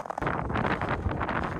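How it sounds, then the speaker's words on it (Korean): An icy gale buffets the microphone on the snowy summit of Taebaeksan in deep winter cold. The wind comes as a loud, continuous roar with no voices heard. "바람소리 들리시죠?"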